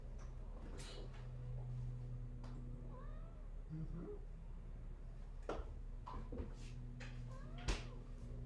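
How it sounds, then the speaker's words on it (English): A cat meows several times over a steady low hum during an online class, with short drawn-out mews spaced a second or two apart, moderately near but not loud. "Does the cat want to talk too?"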